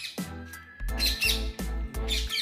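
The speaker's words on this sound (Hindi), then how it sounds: "और नीचे साथ ही साथ तोता भी है।" Parrot at a zoo giving a series of harsh, loud squawks in irregular bursts, about five calls close by, with no talk over them.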